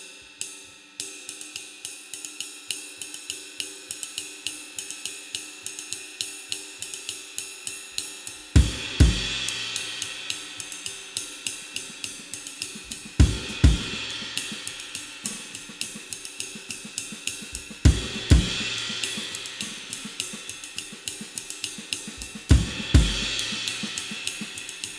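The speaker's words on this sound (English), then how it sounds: "This is the 20-inch extra dry medium ride, and it sounds like this." Meinl 20-inch extra dry medium ride cymbal played in a steady stream of quick, dry stick pings, with a few heavier accented hits and bell-like washes every few seconds, close and alone with no voices.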